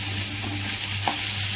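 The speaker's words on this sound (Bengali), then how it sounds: "মাছ ভাজাটা মাথাটা বসিয়ে দিলাম" A fish head fries in hot oil in a home kitchen pan, a steady dense sizzle with occasional stirring, close and continuous with no talk.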